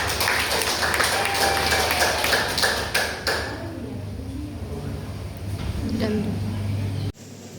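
Students in a primary-school science lesson on the solar system break into a burst of clapping that fades after a few seconds, with a teacher's voice mixed in.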